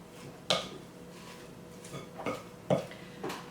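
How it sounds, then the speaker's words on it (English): A spoon stirring frozen mixed vegetables for a casserole in a dish, giving quiet scraping and shuffling with a few sharp clinks and knocks against the side, close by and with no one talking. "Then let's give this a stir."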